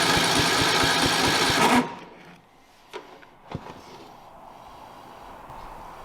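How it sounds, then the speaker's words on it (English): A lawn mower engine cranks under starter power through its solenoid, triggered by a Power Probe, giving a fast rhythmic chugging for about two seconds before cutting off and leaving quiet clicks and faint background noise. "add power to the solenoid, and the engine should crank"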